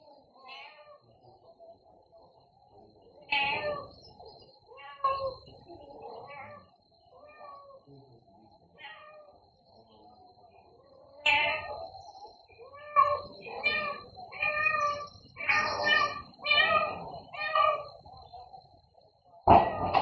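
A mother cat meows repeatedly in short clusters of calls, some loud and close, separated by quieter pauses, with a faint steady high tone behind; recorded on CCTV.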